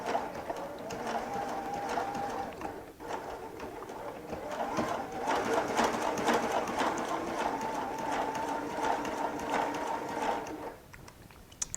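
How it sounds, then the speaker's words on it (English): A Baby Lock sewing machine stitches seams with a continuous fast mechanical chatter, steady for about ten seconds before stopping, heard up close and at moderate volume. "I'm just sewing some seams in."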